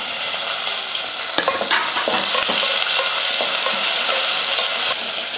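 Onion and curry leaves frying with mustard seeds in hot oil give a loud, dense sizzle with scattered pops and scraping stirs throughout.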